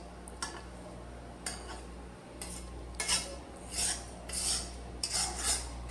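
A spoon scrapes and stirs millet flour as it roasts in a pan, with repeated rasping strokes coming in short bursts and growing more frequent, close and fairly quiet, with no talk.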